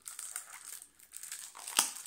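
Thin plastic foil wrapping torn and crinkled off a perfume box, a short quiet crackling close by that ends in one sharper rip.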